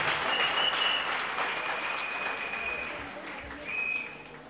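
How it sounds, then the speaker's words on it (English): Church congregation clapping for Jesus during a service, a loud, dense, sustained round of hand claps from a large group, swelling again near the end, with high whistling tones over the top. "Clap for Jesus again."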